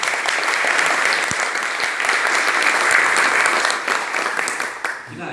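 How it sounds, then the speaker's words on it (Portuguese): Audience at a ceremony marking 25 years of CENAP/ICMBio applauds a researcher with steady, dense clapping that carries on for several seconds and tapers slightly at the end. "Uma salva de palmas para você."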